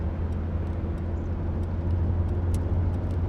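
Car interior drone while driving, a steady low engine and road rumble with faint higher ticks, continuous and moderately loud with no talk.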